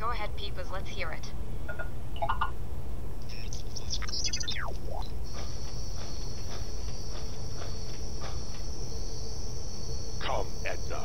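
Peeper frogs in a video game trill in rapid, high-pitched chirps: scattered bursts early on, then a sustained shrill tone, all over a constant loud hiss.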